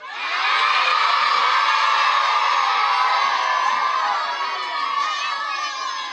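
Village crowd welcoming a visiting missionary priest in the DR Congo, with dense continuous cheering and children's high shouts and whoops swelling loudly, then easing slightly toward the end.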